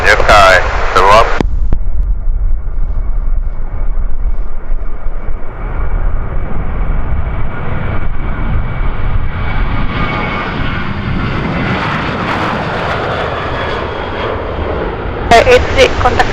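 Airliner on its takeoff roll on runway 34 at Kagoshima Airport in a strong headwind, a loud continuous engine roar that builds steadily and dominates, with brief radio chatter at the start and end.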